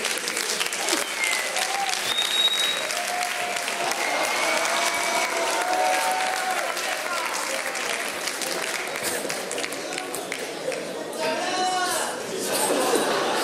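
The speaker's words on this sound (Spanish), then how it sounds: "Un aplauso." A live comedy show audience breaks into applause and cheering, a sustained roar of clapping with shouts and a few voices talking over it, swelling again near the end.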